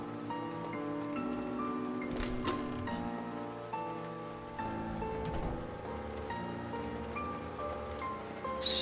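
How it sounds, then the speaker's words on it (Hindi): Rain in the Siren Head horror video game, a steady close patter of drops falling on surfaces, continuous and even throughout with no voices. "शायद बारिश आ रही है,"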